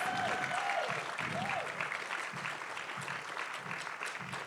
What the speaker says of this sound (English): Let's give Don Tamaki a round of applause.